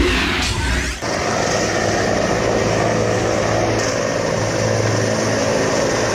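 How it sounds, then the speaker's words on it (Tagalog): Helicopters arrive at Laoag City International Airport in Ilocos Norte, a loud, steady wash of rotor and engine noise that fills the whole stretch with no talk over it. "sunod-sunod nang nagsidatingan sa Lawag City International Airport sa Ilocos Norte ang mga helicopter"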